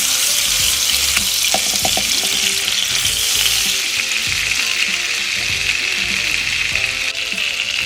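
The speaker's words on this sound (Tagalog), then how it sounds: "niligyan ko ng konting mantika yung kawali bago ko ilagay ang butter" Butter sizzles loudly in a wok-style pan greased with a little cooking oil, a dense, steady crackling hiss with a few faint clinks early on.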